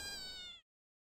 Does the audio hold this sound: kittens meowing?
yes